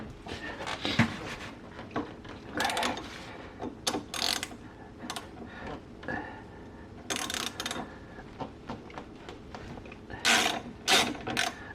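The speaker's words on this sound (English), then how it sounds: "we want to get our 14mm socket and we want to loosen the caliper bolts." 14mm socket on a ratchet loosening the front brake caliper bolts on a Honda CBR600RR motorcycle, close bursts of ratcheting clicks alternating with clanks and handling noises.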